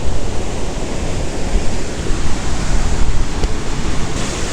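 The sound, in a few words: rushing river near Tulimán waterfalls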